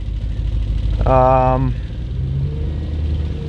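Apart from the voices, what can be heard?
Audi RS4 engine running and warming up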